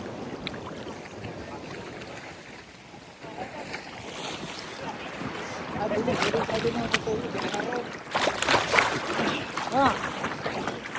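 Waves break heavily along an Australian beach, forming a continuous rushing wash with wind noise beneath several excited voices that grow louder toward the end.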